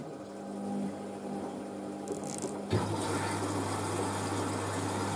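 A Whirlpool washing machine draws in water on its final rinse, a steady rushing hiss of filling water that shifts abruptly to a fuller, lower flow with a mechanical hum partway through, close and continuous with no talking.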